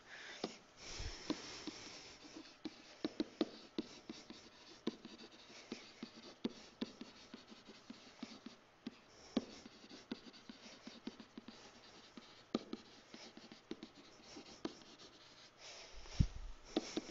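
Faint scratching and tapping of a pen writing out an equation, a steady run of small strokes with occasional sharper taps and a sniff near the start, no talking.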